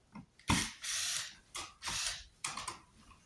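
A cordless power tool removes stainless steel screws during the strip-down of a VW LT31 Karmann Distance Wide camper, with three loud, close, whirring bursts of about half a second each, separated by short gaps.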